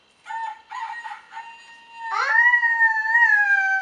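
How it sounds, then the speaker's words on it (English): Rooster crowing from an electronic animal sound book: a few short clucking calls, then a long loud cock-a-doodle-doo crow, played close with no talk. "Cock-a-doodle-doo."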